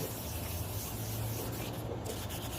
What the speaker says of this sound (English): Now let's go to 320 grit of sandpaper and a motion, circle motion on your hand